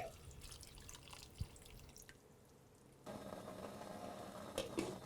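Water being poured into a pot of taro (chembu) curry for simmering, a soft dripping, trickling pour that grows steadier and a little louder in the second half, with no voices.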